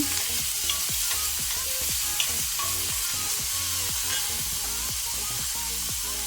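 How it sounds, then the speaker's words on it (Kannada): Malai paneer frying in a pan until golden makes a steady close sizzle, with regular stirring strokes and scrapes repeating about twice a second, and no voices are heard. "ಸ್ವಲ್ಪ ಫ್ರೈ ಮಾಡ್ಕೊಳ್ಳೋ ಇದನ್ನು ಗೋಲ್ಡನ್ ಕಲರ್ ಬರುವ ತನಕ."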